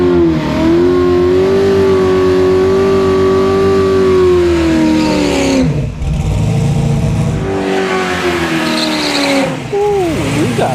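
Drag race pass at the strip against a 1967 first-generation Firebird, with loud engines roaring and revving, pitch climbing and shifting as the cars launch and pull away.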